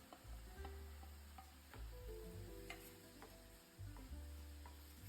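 Curry leaves, green chilies and crushed garlic sizzle and crackle in hot oil for a puffed rice tempering, with a steady close frying hiss and a few stirring scrapes.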